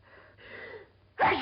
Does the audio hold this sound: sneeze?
yes